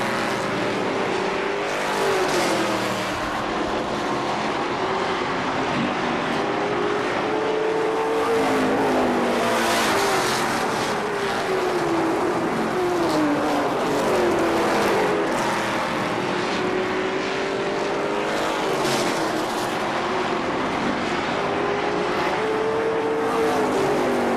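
Several race cars roar around the Kil-Kare Speedway oval in Dayton, a loud, continuous wall of engine noise with overlapping pitches rising and falling as the cars pass close by, lasting throughout.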